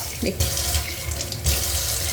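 Running tap water splashes steadily into a sink as a clay pot is rinsed, with brief faint clinks and no voices.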